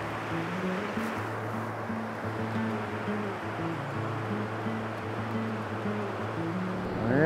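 Steady broadband rush of the Blue River's current flowing over rocks and deep water, a continuous near wash with low churning underneath, no voices.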